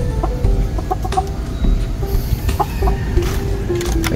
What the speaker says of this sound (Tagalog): ito yung ating mga silky chickens